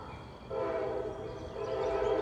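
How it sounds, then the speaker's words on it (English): An EMD diesel freight train rolls across a track switch, a loud steady mechanical drone with tonal whine that swells in after about half a second and holds to the end. "It's switching tracks."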